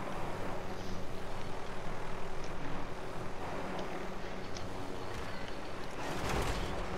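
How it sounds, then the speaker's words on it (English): A helicopter in Call of Duty: Modern Warfare Plunder mode whirs with a steady pulsing rotor drone throughout, moderately loud and continuous with no talk. "I got a helicopter."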